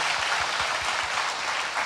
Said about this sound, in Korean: 우리 더 큰 감사와 영광의 박수 올려드립시다